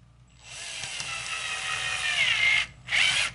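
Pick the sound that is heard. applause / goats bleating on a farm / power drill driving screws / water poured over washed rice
power drill driving screws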